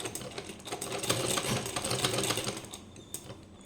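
A sewing machine stitching fabric in a tailoring lesson, running in a steady rapid mechanical rattle for several seconds, close and moderately loud.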